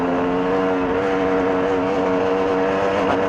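A motorcycle engine drones steadily while accelerating in third gear through sand, loud and close, with a sustained buzzing tone that holds throughout without pause.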